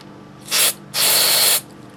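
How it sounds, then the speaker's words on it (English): Two bursts of CRC lubricant spray hit a transparent black Cube4you puzzle cube, a short hiss followed by a longer one, close and loud with no talking. "I'm going to go ahead and give it some lube, CRC."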